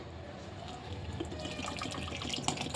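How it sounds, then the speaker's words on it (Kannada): Water splashes and trickles steadily into a bowl for a besan roll batter, a continuous liquid pour with a few brighter drips near the end. "ಇವಾಗ ನಾನು ನೀರು ಹಾಕ್ತೀನಿ."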